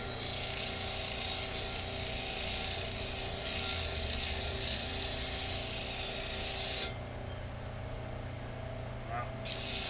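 Homemade 1 hp disk sander smoothing a part, a continuous rasping, grinding hum with the abrasive scratch dropping away near the end while the motor keeps droning, a voice faintly underneath.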